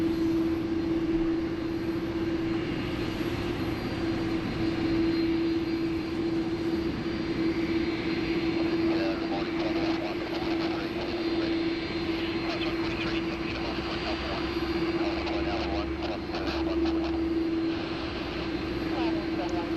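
A Qantas Airbus A330-300 takes off from Sydney Airport, its jet engines a loud, steady roar with a sustained whine that holds throughout, heard from a distance outdoors.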